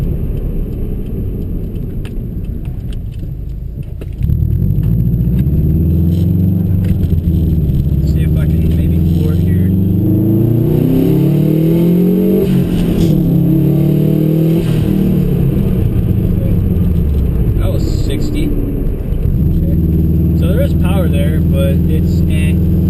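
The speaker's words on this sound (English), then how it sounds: "So that's why you can hear the car. It sounds like it's spooling up, and it is." An in-car recording of a 2007 Subaru STI with a manual gearbox. The turbo engine drones, then rises and falls in pitch through repeated acceleration pulls, loud and close, with someone talking throughout.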